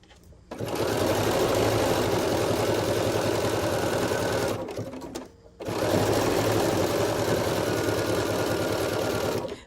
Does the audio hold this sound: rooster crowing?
no